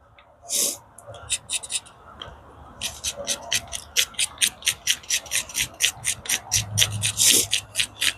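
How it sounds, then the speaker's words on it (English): A knife blade held at a right angle scrapes fine, smooth shavings from resinous fatwood, making a steady run of close, rhythmic rasping strokes that quicken toward the end. "using the blade of my knife at like a 90-degree angle to make some really fine, smooth shavings"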